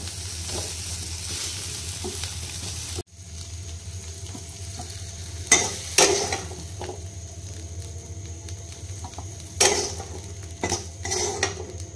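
Okra (bhindi) sizzling as it is stir-fried in a pan, with a steady frying hiss under sharp clinks and scrapes of a utensil against the pan at irregular moments.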